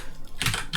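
A computer keyboard clicks under quick fingers, a few sharp key taps in a brief, close, fairly quiet burst with no voices.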